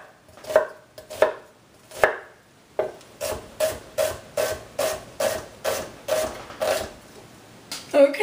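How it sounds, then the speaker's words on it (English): Onions being finely diced with a knife on a board: a run of about fifteen crisp chopping taps, sparse at first then settling into a steady even rhythm, close and clear. "And then we'll have finely diced onions."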